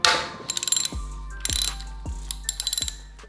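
A ratchet wrench loosens an oil feed pipe bolt on a Yamaha YZF1000R Thunderace engine, giving close, rapid bursts of clicking in several repeated strokes with a metallic clunk at each reset, no talking.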